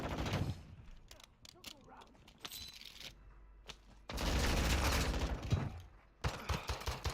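Shots from a slow-firing gun in Warzone 2.0 come as sharp cracks spaced well apart, mixed with clicking handling noises and a stretch of louder gunfire and battle din in the middle.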